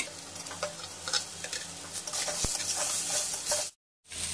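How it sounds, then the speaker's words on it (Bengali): Tomato added to fried potato and eggplant in a pan, a strong continuous sizzle with stirring scrapes and one sharp clink, breaking off into a brief silence near the end. "আলু বেগুন এগুলো সব ভাজা হয়ে গেছে। এবার আমি টমেটোটা দিয়ে দিচ্ছি।"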